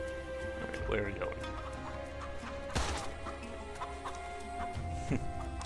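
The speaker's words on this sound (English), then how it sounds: "Too many chickens running around, aren't they?" Chickens clucking in the video game Immortal Redneck, short scattered clucks over game ambience with a crash partway through, mixed with speech.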